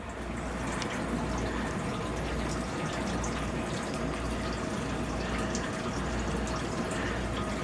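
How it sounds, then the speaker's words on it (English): A patio water fountain beneath a tree splashes in a continuous, even trickling wash, steady and moderately faint, heard from a short distance with no voices. "We have a water fountain in the background. I guess you hear it."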